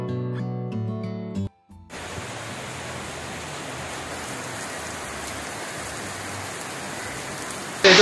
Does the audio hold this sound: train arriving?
no